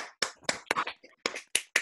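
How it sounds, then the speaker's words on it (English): At a design competition, a small group gives the winner a brief round of applause: a few separate, fairly close handclaps scattered over about two seconds, with quiet gaps between them. "Let's give him a round of applause, guys."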